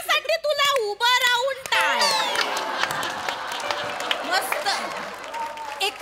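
A theatre audience at a live Marathi comedy show gives a standing ovation: loud, sustained applause and cheering from the crowd swell in after a stretch of sung or spoken voices, then carry on dense and even.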